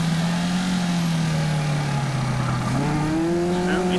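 Caterham Roadsport race cars racing at Cadwell Park, with a loud sustained engine drone that shifts pitch as cars accelerate and change gear.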